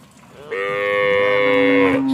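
A cow at a cattle market gives one long, loud, close moo that rises and holds steady before trailing off, with faint background noise before it starts.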